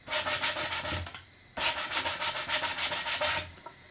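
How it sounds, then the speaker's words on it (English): Coarse sandpaper, around 60 or 80 grit, rubbed hand-driven over a wooden workpiece in quick back-and-forth strokes, close and steady, with a short pause between two runs of strokes. "you want to use probably that coarsest sandpaper you have, like 60 grit or 80"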